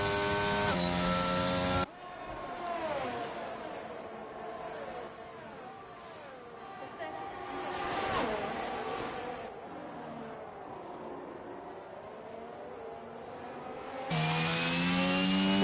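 Onboard engine note of an AlphaTauri Formula 1 car in a racing video game at the Brazil circuit, a high whining tone that rises and falls through gear changes, loud and continuous with brief cuts at either end.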